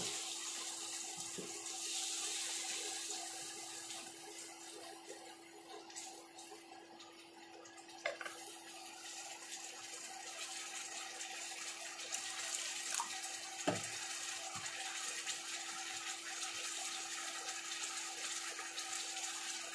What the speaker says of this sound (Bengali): মশলার বাটিটা আমি ধুয়ে জলটা দিয়ে দিলাম।